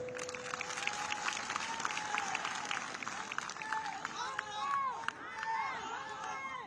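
A crowd at a BJP election rally in Tripura applauds steadily for several seconds, a dense clatter of many hands under a loudspeaker voice.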